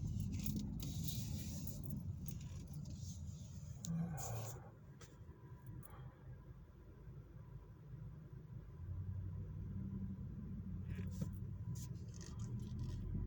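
A car and a truck driving close behind on a road, giving a steady low rumble of engines and tires with some jingling and brief louder passes, under light background noise.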